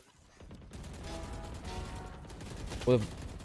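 Rapid gunfire bursts crackle through Valorant's soundscape, with a sharper shot near the end over a steady background rumble.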